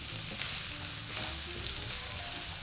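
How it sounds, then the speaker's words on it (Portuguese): Chopped onion fries with garlic and oil in a pan, giving a steady, moderately loud sizzle and crackle with no break throughout. No one speaks. "Vou deixar essa cebola aqui na panela até ela dar uma boa murchada."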